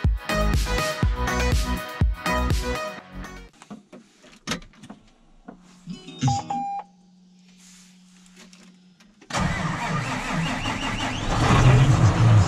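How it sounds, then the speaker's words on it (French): A John Deere 7260R tractor engine warming up: a few clunks and a faint tone come after a bit of music, then the engine starts late and settles into a loud, steady running roar. "Chauffer un peu le tracteur."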